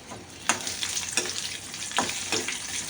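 Chana dal and dried red chillies fry in refined oil, a steady close sizzle broken by several sharp stirring scrapes at irregular intervals, no voices.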